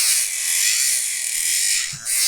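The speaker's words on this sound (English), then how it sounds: "the ordinary barrel, sanding barrel that comes with the Dremel or with these sort of mini rotary tools" A Dremel-type mini rotary tool with a sanding barrel grinding down a dog's nails: a steady, high-pitched whine with a light abrasive rasp, close and continuous, dipping briefly once before resuming.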